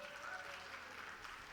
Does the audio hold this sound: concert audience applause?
yes